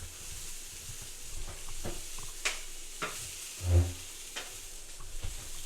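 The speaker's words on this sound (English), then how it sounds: "The sausage is almost done" Sausage frying in a pan in a smoky room, a soft continuous sizzle with a few scraping stirs and knocks, one low thump near the end, moderately close and without talk.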